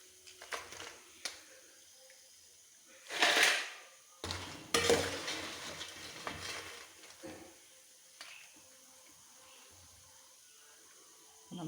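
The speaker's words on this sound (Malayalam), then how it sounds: "നമ്മുടെ ഏത്തക്ക വറുത്ത് അങ്ങനെ മൂത്ത് നമുക്ക് കോരിയെടുത്തേക്കാം" Plantain chips fried in oil for Onam are scooped out with a metal ladle: scattered clinks and scrapes against the pan with soft frying underneath, in bursts separated by quieter pauses.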